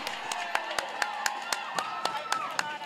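A crowd cheers at an adult mashup roller derby bout, Goths versus Unicorns, a steady wash of voices punctuated by sharp, evenly spaced claps or bangs about four times a second.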